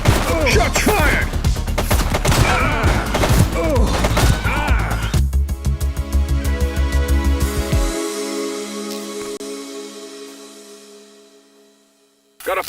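Dense gunfire rattles in The Precinct game as rapid overlapping shots and bursts sound loud and close for several seconds, then echoing reverberation slowly fades into near silence before a short final sound.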